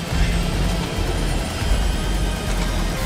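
An airplane flies overhead with a loud, steady engine roar that fills the whole moment and has no break.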